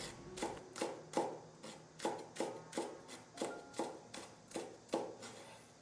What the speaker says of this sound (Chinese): 准备2根清洗干净的香葱，直接切成葱花